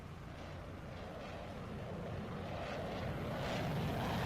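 An RAF Typhoon jet in the PTFS game flies a display at the Sywell airshow, a broad steady engine roar that grows gradually louder as it comes back around, with no voices.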